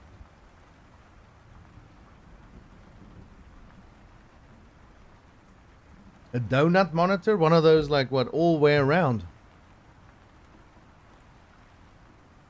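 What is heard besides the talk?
rain in video game Surviving New Worlds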